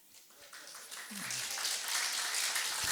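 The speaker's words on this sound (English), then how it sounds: "the rest of you clap" A church congregation breaks into clapping that swells from sparse claps to steady, building applause, with a voice briefly heard early on.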